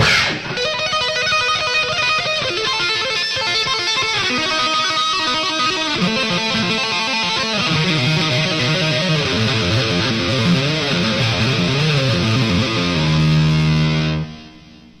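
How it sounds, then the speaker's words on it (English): Distorted electric guitar plays a fast, continuous double-tapped run of rapidly repeating notes from a solo, loud and sustained, ending on a held note before cutting off. "When I speed it up, though, I tend to double tap, so the tapping pattern would change and sound like this"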